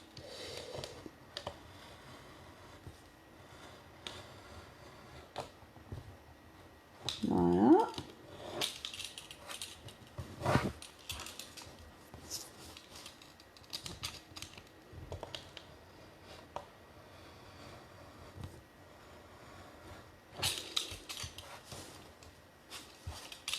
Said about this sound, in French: je vais donc découper tout ce qui dépasse au cutter